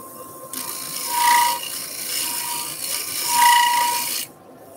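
A round-nose scraper takes a light cut on spinning turned wood, giving a close, continuous raspy scraping hiss that swells twice and stops abruptly, over the faint hum of the lathe.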